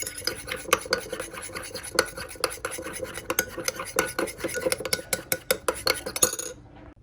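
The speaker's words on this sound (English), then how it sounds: "So these 3 I'm gonna mix in a little bowl" A utensil clinks and scrapes rhythmically against a small bowl while mixing ingredients for chicken meatloaf, a close, busy series of metallic taps that stops abruptly.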